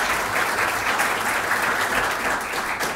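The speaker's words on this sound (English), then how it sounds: "I like getting applause before I talk" Audience applause fills a talk on government regulation as a speaker is introduced: steady, dense clapping from a full room, sustained evenly throughout with no voices over it.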